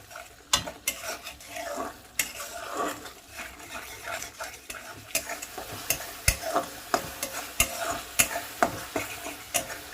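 Spices for a jackfruit curry fry gently over a medium flame, with a soft sizzle under repeated sharp scrapes and taps of a spatula against the pan, fairly close and without talk.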